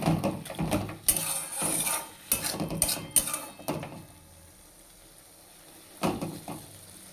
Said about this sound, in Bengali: পুরো জলটা শুকিয়ে যাওয়া পর্যন্ত আমি নাড়াচাড়া করব